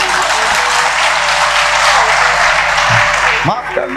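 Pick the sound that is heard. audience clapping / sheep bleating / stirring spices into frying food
audience clapping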